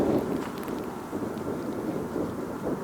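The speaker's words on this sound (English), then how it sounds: "It's just the wind picking up." Wind picks up outdoors at night, a steady rumbling gust buffeting the microphone without pause, low and fairly loud throughout.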